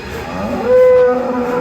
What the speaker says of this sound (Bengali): এই যে ষাঁড় গরু পাইলাম